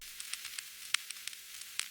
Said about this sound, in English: Underneath the drums there are some ambient sounds like this vinyl crackle